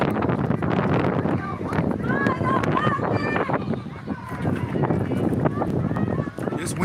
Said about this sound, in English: This wind is kicking, man.